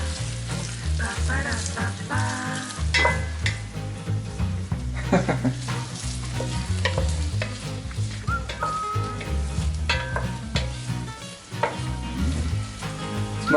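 Onion, garlic and thyme fry loudly in a pan for a beef stew, a constant crackling sizzle broken by frequent clanking tosses and scrapes of the pan, close up with no talking.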